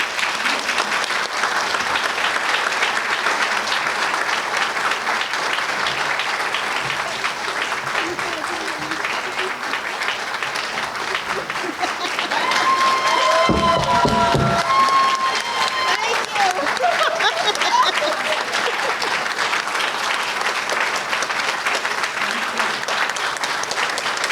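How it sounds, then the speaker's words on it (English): Applause at a graduate student scholarship reception for recipient Melanie McQueen: long, steady clapping from a gathered crowd, continuous and even, with a brief voice cutting through midway. "One more round of applause for Melanie McQueen."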